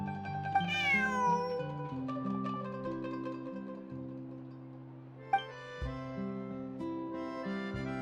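A cat meows in Genshin Impact, its rising and falling harmonic cries heard clearly over a sustained background music score with a couple of sharp accents.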